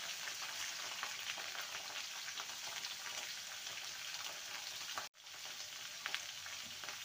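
Vegetables with salt and turmeric sizzling and frying in a pan while being stirred, a steady broadband crackle throughout with a brief drop near the end before resuming.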